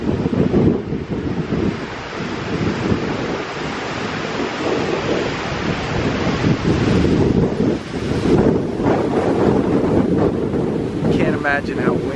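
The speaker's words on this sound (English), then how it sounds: "Imagine how windy it is right now." Strong wind roars and buffets the microphone outdoors, a dense, steady rush with surging gusts that stays loud and close for the whole twelve seconds.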